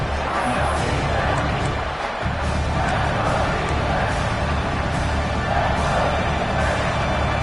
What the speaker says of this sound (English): Crowd really making some noise now, trying to help out this defense to get this stop near the goal line.